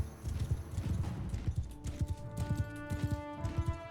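Horses gallop in the video game Mount & Blade Bannerlord, with dense, rapid hoofbeats drumming steadily throughout under a sustained musical tone and faint battle noise.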